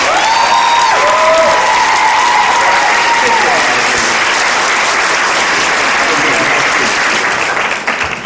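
A crowd at a Kwanzaa celebration claps loudly and continuously, the applause thick and close, with cheering voices briefly cutting through near the start before the sound fades at the end.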